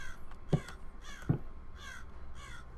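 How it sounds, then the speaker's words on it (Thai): A crow in the game Rise Of Insanity caws twice in quick succession, loud and close, then two fainter calls follow, with a soft steady hiss underneath. "มีนกอีกาตรงนี้"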